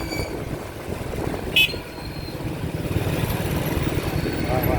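Busy street traffic in Talagang, Pakistan, dominated by auto rickshaws with fewer cars and motorcycles, forms a steady rumbling engine wash, with a brief horn toot partway through and voices in the background.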